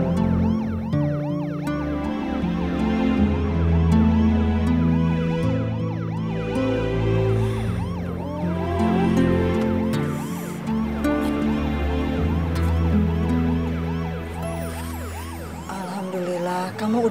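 Ambulance siren wailing loudly and continuously with a rising and falling tone, close and sustained throughout, with no talk over it.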